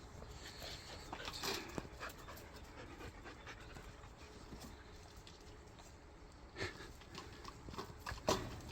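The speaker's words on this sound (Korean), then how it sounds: "이제 백설이 오늘 매화랑 헛돌이도 어, 지금 저렇게 장난을 치면서 놀고 있는 모습입니다" Jindo dogs play roughly together inside a house, with close panting, scrabbling paws on the floor and occasional whimpers, and no talking.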